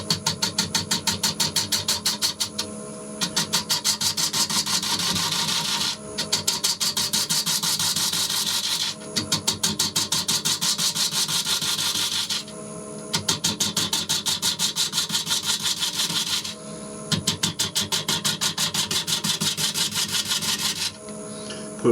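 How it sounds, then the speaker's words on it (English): A bowl gouge shear-scrapes a turned wood edge in long, slow, rhythmic passes, each a rasping, buzzy scrape lasting a few seconds and separated by brief pauses, loud and close. "the easiest way for me to level off that edge is with a bowl gouge, but shear scraping"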